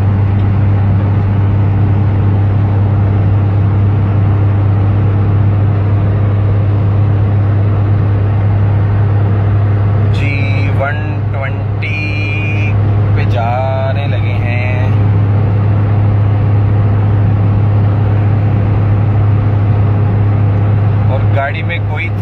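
A United Bravo car cruising at about 110 km/h, heard from inside as a steady low engine and road drone with a strong constant hum, while someone talks over it.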